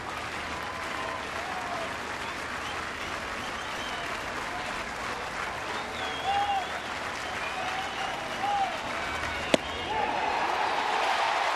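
Home crowd at a Toronto at Kansas City baseball game cheering and applauding steadily throughout, a dense sustained roar with a sharp crack near the end and whistles rising over it.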